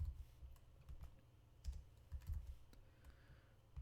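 Quiet computer keyboard typing while entering code, soft rapid key clicks in uneven bursts, close to the microphone.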